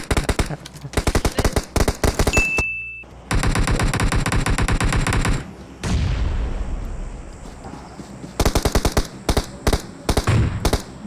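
Bursts of rapid automatic gunfire from a shooting video game, loud and close, with repeated rattling volleys separated by brief gaps and a softer rushing stretch in the middle.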